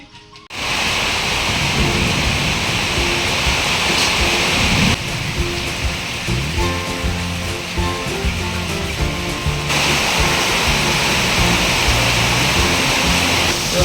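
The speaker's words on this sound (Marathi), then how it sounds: "पाऊस बघा कसं चालू झाला होता" Heavy rain pours down in a steady, dense hiss that continues without letting up.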